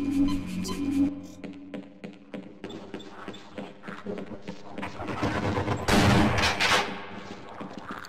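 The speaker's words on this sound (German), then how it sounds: "Rein daneben geschossen." Gunfire in the video game Half-Life: several sharp shots crack out over game sounds, with a loud, dense burst of firing near the end.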